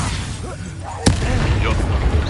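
A Confringo blasting spell goes off in Hogwarts Legacy with one sharp, loud burst followed by a rumbling tail, heard over ongoing combat noise and a voice.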